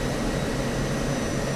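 An F-16C Viper's jet engine in DCS, slowing on final approach for a full-stop landing, gives a steady, dense roar with a thin high whine running through it, loud and unbroken throughout.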